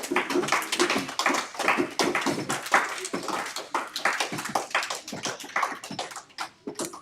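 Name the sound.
audience clapping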